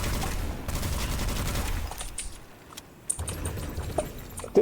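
Midas rifle firing in the video game Witchfire, a dense stretch of rapid shots that thins out, then a few sharper isolated reports later, loud and close.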